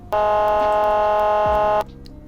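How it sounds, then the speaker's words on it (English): A single sustained electronic car horn blast in a video game, loud and flat-toned, held for nearly two seconds before cutting off abruptly. "Here's the horn."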